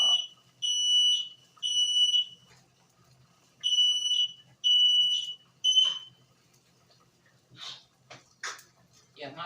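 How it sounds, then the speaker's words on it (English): A household smoke detector goes off in a kitchen while dinner is being made, sounding loud, close, repeating piercing beeps in a three-beep pattern, followed by clattering dishes and a person talking. "If it's smoke in the house, and I'm glad it's like that, it's going off"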